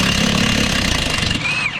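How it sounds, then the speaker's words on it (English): A power drill works loudly and continuously on rusty suspension parts of a Nissan GT-R, a harsh broadband whir with a rising whine near the end. "Oh, this drill is amazing!"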